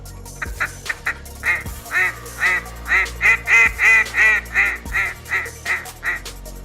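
A wooden duck call blown in a descending series of about a dozen loud, nasal quacks, close and rhythmic, imitating a hen mallard.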